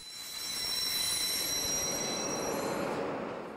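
A locomotive-hauled local Deutsche Bundesbahn train rolls through Köln Hauptbahnhof in 1991, with loud, high-pitched wheel squeal and rumbling wheels that swell and then ease off over a few seconds, with no talking.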